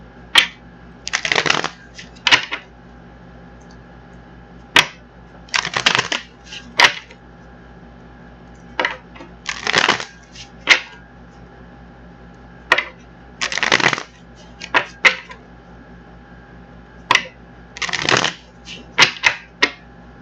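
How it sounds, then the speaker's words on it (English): Tarot cards being shuffled in repeated crisp riffling bursts separated by short pauses, close and clear with no talking. "we're going to get these cards shuffled up"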